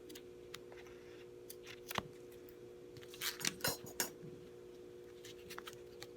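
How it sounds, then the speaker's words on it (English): Scissors snip string while stitching a thread-bound book, giving a few faint isolated clicks and then a cluster of sharper snips over a steady low hum, quiet and close. "try to use the scissors and cut it down."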